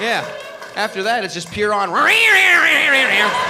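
A person loudly imitates cats with drawn-out, wailing meows that rise and waver, mixed with brief speech and laughter.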